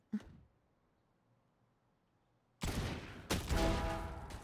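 Video game gunfire: one sharp shot, a quiet gap, then a loud dense burst of rapid fire continuing to the end.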